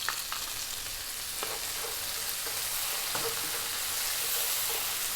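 Sea bass fillet fries over high heat in a pan with olives, tomato and oregano, giving a steady, dense, close sizzle with a few faint utensil taps.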